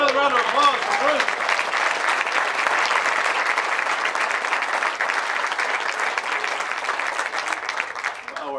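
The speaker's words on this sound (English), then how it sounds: "How about another round of applause for Bruiser?" A stadium-progress gathering audience breaks into sustained applause, a dense continuous wash of clapping with faint voices mixed in, steady throughout.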